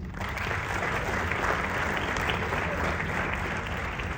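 Audience members at an entrepreneurs summit clap for a young man asked to stand, a steady, even wash of applause heard at moderate distance with constant low hall rumble beneath.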